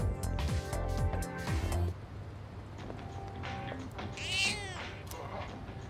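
A cat meowing in the video game Persona 3 Reload: one drawn-out meow after busy game sounds and background music.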